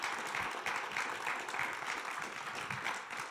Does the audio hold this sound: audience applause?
yes